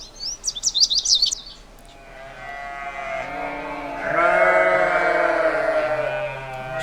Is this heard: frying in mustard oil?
no